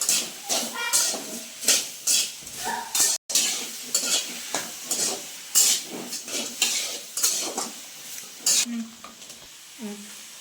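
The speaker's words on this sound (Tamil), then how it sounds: "தக்காளி போட்டுக்கலாம் ரெண்டு பச்சை மிளகாய் போட்டுக்கலாம் போட்டு நல்லா வதக்கணும்" Tomatoes and green chillies sautéing in a pan with salt for a paneer masala, rhythmic close spatula scrapes and clinks against the metal over a soft sizzle, without talk.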